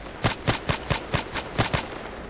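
An SVU-AS automatic sniper rifle fires in the shooter game Contract Wars, about nine sharp, close, evenly spaced shots in quick succession with no talking.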